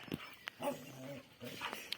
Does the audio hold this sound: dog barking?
yes